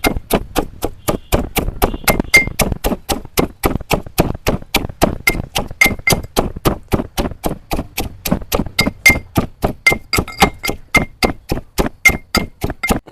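Steady, rhythmic pounding of banana stem mash with a mortar and pestle, a loud dull thud repeating roughly three times a second, close up and continuous with no voices.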